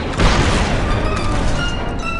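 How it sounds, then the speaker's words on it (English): A demolition charge detonates in the Star Wars Republic Commando video game, giving one loud booming blast whose rumble and debris keep sounding for about two seconds, with no voices. "Disable it with a demolition charge and you'll seal off the hangar for good"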